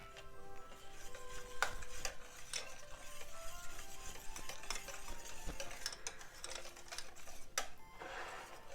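A spoon stirs the cream mixture for a Napoleon cake in a pot, giving light scraping and clinking against the metal in an irregular rhythm, close and fairly quiet.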